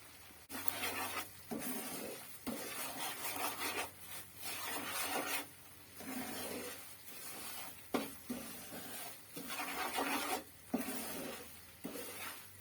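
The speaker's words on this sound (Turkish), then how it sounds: "Kavurmaya devam ediyorum. Cevizler de kavrulsun." Semolina and walnuts being stirred and roasted in a pan for pekmez semolina halva give a steady, close dry scraping rasp with gentle sizzle, broken by brief pauses between strokes.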